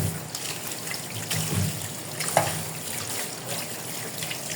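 Milkfish is washed under running water, a faint continuous trickle and splash from a tap with soft handling noises and a small clink, fairly close and without speech.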